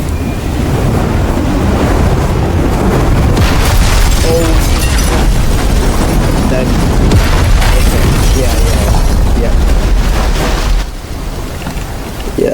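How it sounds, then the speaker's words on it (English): Meteor storm raining down in the Teardown demolition game around a Titanic model, a loud, continuous roaring wash of crashing impacts and rumble that stays dense for about eleven seconds before briefly dropping off. "Yeah, it should just be meteors raining down."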